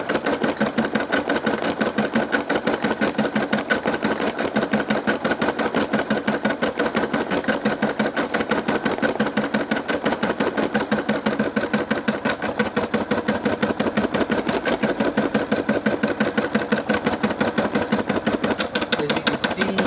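A Brother SE600 embroidery machine stitching steadily, a fast, even mechanical clatter that runs unbroken and close throughout, with no voices.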